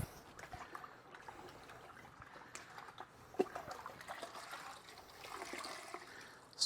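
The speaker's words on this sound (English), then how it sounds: "Squeeze it out, just a little bit dripping" Light water trickling and dripping from a wrung-out towel soaked in rinseless car wash solution, soft and close, with a brief sharper splash midway; no voices.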